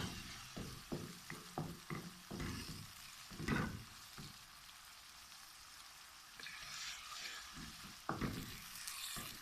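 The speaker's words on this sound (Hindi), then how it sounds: "2 मिनट हो गए इन सब चीज़ों को भूनते हुए" Spices for chana dal fry in a pan with a soft continuous sizzle, broken by irregular crackles and stirring clatters, fairly quiet and heard alone.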